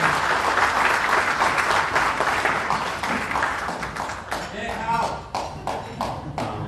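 An audience at a business dinner meeting applauds a speaker coming on stage, with dense, steady clapping that thins out into scattered individual claps toward the end.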